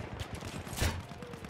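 Gunfire from the Battlefield 1 video game, a dense burst of rapid shots with one louder crack near the middle, continuous and close over the short stretch.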